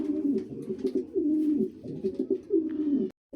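Several King Lahori Mundi pigeons coo nearby in soft, throaty, rolling phrases that repeat in a steady rhythm, with a brief drop to near silence at the end.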